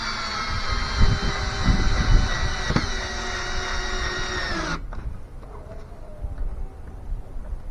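A power drill drives screws into wood while building a wooden planter support, giving a loud, continuous whine with a grinding undertone that slows and cuts off near the end, followed by quieter handling noise.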